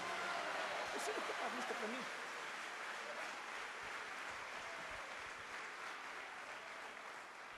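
A church congregation applauds and cheers together, a sustained, broad roar of clapping from many people with voices rising near the start, fading slightly toward the end.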